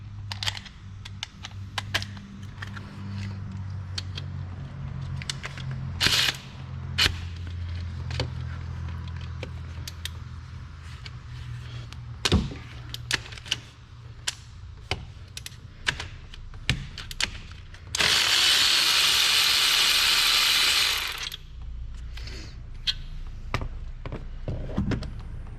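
A ratchet with a 1/2 inch socket works on the alternator bolts of a Dodge Dakota, giving close, irregular clicking and clattering throughout, with a steady hiss of broadband noise around 18 to 21 seconds, and no talking.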